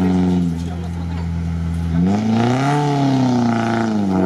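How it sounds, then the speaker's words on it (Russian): An off-road car engine hums loudly up close, then revs, its pitch climbing before easing back slightly. "Звучит красиво машина и едет неплохо."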